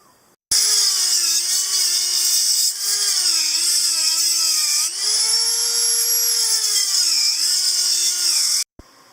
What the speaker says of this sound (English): So now that you've done your grinding and kind of dug that out a little bit